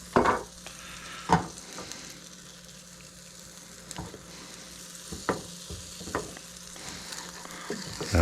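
Omelette frying in butter in a pan, a steady soft sizzle running throughout with occasional sharper clicks and scrapes of a utensil against the pan, close and alone with no talk.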